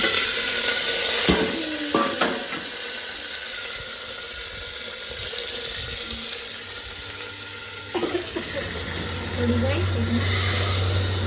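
Garlic fries in a pan with a soft, continuous sizzling hiss. A few clinks and stirring sounds sit under it, while someone talks over the cooking.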